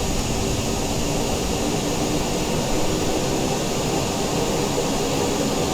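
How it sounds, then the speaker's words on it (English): BR Sim Designs E121A1 motors run at full power in MSFS2020, a constant loud jet-like roar with a high whine that holds steady throughout, with no voices. "Let's go full power on the motors."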